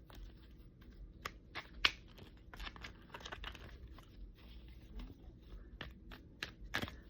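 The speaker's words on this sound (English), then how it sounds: "I'm being told to shuffle, so I'm going to shuffle." Tarot cards being shuffled by hand, a quiet series of soft crisp riffles and slaps in irregular bursts, close and faint with no talking.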